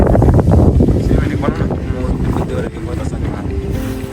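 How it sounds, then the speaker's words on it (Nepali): Wind blowing hard across Deurali hill at Kirat park in Ilam, a loud, continuous buffeting rush that roars against the microphone throughout with no clear pauses. "देउरालीमा बतास चल्यो"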